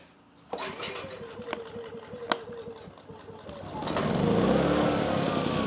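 Cummins Onan P2500i inverter generator being pull-started: a few rattling recoil pulls, then the small engine catches and settles into a steady, fairly quiet running hum.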